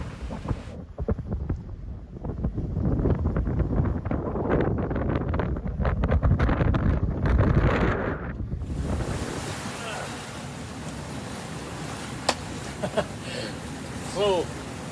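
Strong wind roars over a single-handed sailboat in the Pacific trade winds, gusting 20 to 25 knots with a Selden rig, loud and steady buffeting against the microphone, then giving way to rushing ocean waves and surf with faint creaks.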